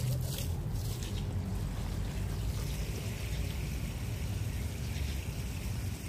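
Water gushes strongly from a garden hose fed by a motor pump, a steady dense rushing and splashing that stays loud and unbroken throughout, with no talking.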